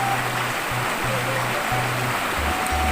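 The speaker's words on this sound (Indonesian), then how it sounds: "inilah teman-teman sungainya. Jernih teman-teman tuh" A clear village river flows through the countryside with a steady, even rush of water, joined by a low, intermittent hum.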